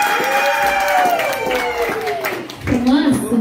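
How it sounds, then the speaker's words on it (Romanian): An audience at a village birthday celebration in Petrunea, Glodeni district, claps in a lively burst, with a voice and musical tones ringing over the applause. "Haideți să aplaudăm"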